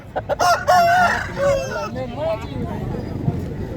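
A rooster crows nearby amid a busy poultry market in Dera Ghazi Khan, Pakistan, with people talking and general crowd babble around it.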